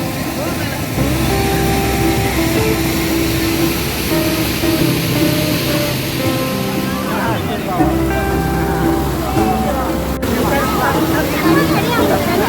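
Kalakadu waterfall in Tirunelveli pours steadily as a constant loud rush of water, with a crowd of visitors chattering and talking throughout over the roar.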